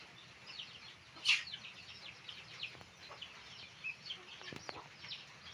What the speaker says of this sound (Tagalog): Ang manok ko na nag-away-away na.